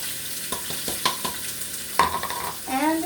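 Onions sauté in the drippings of a New York strip steak, a soft sizzle under scattered stirring clicks and scrapes in a pan, fairly quiet and close.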